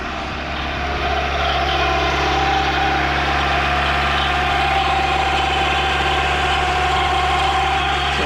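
Steady idle from a 1991 Honda Accord engine, a continuous low hum with a smooth, even drone throughout, close and fairly loud with no talking.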